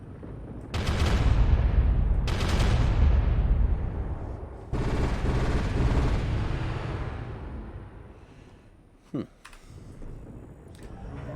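Mech weapons firing in MechWarrior Online, several heavy booming volleys with long decaying rumbles, followed by a short sharp burst, loud and close with keyboard clicks and talk in between.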